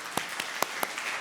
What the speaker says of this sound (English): I'd like to ask you to join me in a round of applause.